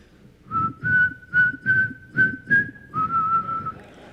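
A person whistles a sustained, steady melody of several phrased notes, clear and close with no talking over it.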